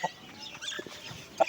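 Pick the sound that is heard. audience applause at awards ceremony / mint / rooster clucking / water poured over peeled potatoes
rooster clucking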